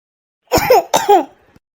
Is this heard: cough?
yes